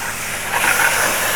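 Spices sizzling in a hot pan during curry cooking at a takeaway kitchen, heard as a steady, close, bright hiss that swells slightly toward the end.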